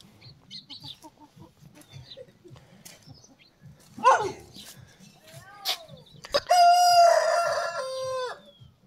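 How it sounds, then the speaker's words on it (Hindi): A rooster crows loudly nearby in a mountain village in Uttarakhand, its drawn-out call rising and holding over faint background chatter and other birds. "देखिए मुर्गे की आवाज आपको गांव में अब बहुत कम सुनाई देगी"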